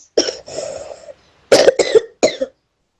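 Children in a classroom coughing: a few harsh coughs close by, one drawn-out hacking cough followed by a quick burst of three sharper coughs.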